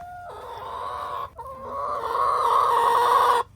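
Backyard hens clucking and squawking close by, a drawn-out, rising cackle that swells louder and holds before cutting off, with a brief break partway through.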